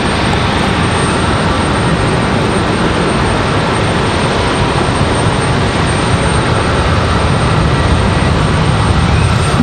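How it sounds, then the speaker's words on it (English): A Southwest Airlines jet arriving from Dallas touches down at Raleigh-Durham airport, a loud continuous broadband roar of engines and rushing air that holds steady without a break. "Southwest from Dallas, touching down there."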